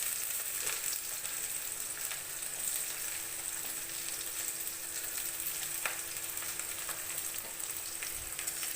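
Chopped onions fry in a pan with a steady, continuous sizzle and occasional faint stirring clicks, close and fairly quiet.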